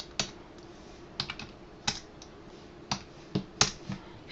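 Numbers typed on a computer keyboard: sparse, crisp key clicks close by, about a dozen irregular taps with short pauses between them.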